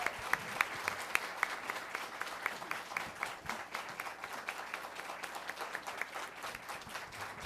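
Applause breaks out from the audience at a public hearing on the Parental Alienation Law, steady moderately loud clapping from many people with sharper individual claps standing out, continuing throughout.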